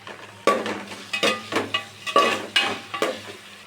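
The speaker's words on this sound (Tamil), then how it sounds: "இப்போது கருவேப்பிலை, கொத்தமல்லி, புதினா எல்லாத்தையும் சேர்த்து நல்லா வதக்கிக்கலாம்." Onions sautéing in a pan with curry leaves, coriander and mint for chicken biryani, stirred in about eight sharp scraping strokes over a steady soft sizzle, close and clear with no talking.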